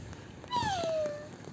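A 16-month-old toddler's voice imitates a cat with one drawn-out meow that slides downward in pitch, close and clear over a quiet room.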